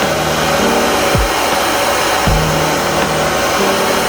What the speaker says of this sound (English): And we turn our blow dryer on.